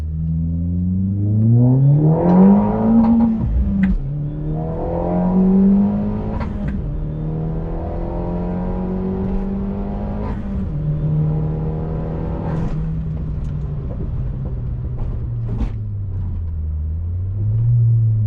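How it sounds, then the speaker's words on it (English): A small car engine, an Opel Corsa OPC hatchback, idles and revs up and down several times, a steady low hum with rising and falling whines, heard close and alone. "I just want you guys to hear how this car sounds."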